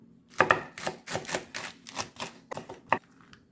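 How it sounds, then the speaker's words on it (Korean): A knife cuts green onion diagonally on a cutting board, making a quick series of crisp, close taps in an uneven rhythm. Roughly eight to ten soft strikes sound with no talking. "이렇게 반으로 갈라서 어슷어슷 사선으로 길쭉하게 썰어줍니다"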